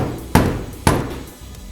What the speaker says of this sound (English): hammer these guys down so that they're not in the way